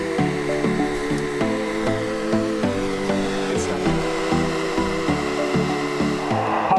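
A hair dryer blows hot air onto a steak on a very windy rooftop, a loud, steady whirring whine with pulsing buffets throughout, and a voice briefly speaks over it.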